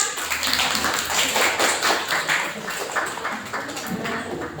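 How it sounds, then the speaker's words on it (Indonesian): Students in a classroom clap for a student group during a teaching-practice lesson, a dense, steady patter of many hands, fairly loud and continuous throughout with faint background chatter. "Tepuk tangan untuk kelompoknya."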